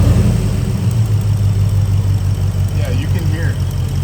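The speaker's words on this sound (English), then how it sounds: "Crank it, see if we can hear the tick" A Gen 1 Ford Raptor engine idles steadily up close with a low, even rumble, the tick hard to pick out, while people talk over it.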